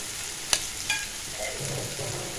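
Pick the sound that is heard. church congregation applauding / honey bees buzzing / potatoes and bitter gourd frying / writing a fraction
potatoes and bitter gourd frying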